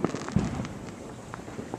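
Independence Day fireworks burst above trees on a foggy night, heard as faint, distant pops and crackles scattered across the moment, with one slightly louder thump near the start.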